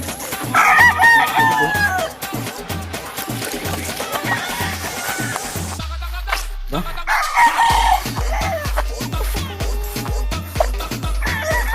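Farmyard chickens and gamecock roosters crow and cluck close by, several loud crows rising over repeated clucking and general fowl chatter, with people talking nearby at intervals.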